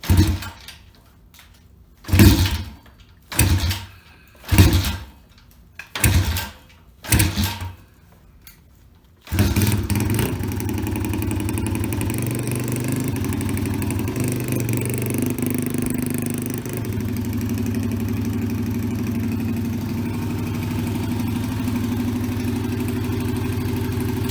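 A Pitster Pro 140 pit bike is kicked over several times in sputtering bursts with choke on, then fires and settles into a loud, steady close-up idle that runs on while warming up.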